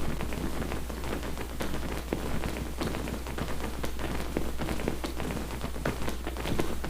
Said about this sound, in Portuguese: Só que aí fica aparecendo barulho de chuva